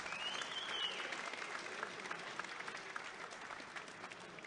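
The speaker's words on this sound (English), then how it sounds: "we could just start with a round of applause for Mr. Matthew Lombard and the big band" An audience at an old boys' dinner applauds Mr. Matthew Lombard and the big band, a dense, steady wash of many hands clapping at moderate distance, with a faint high tone briefly standing out near the start.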